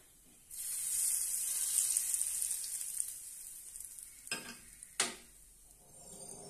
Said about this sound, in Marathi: तेल गरम झालेलं आहे। छानपैकी आपण याच्यावर ओतून घेऊया।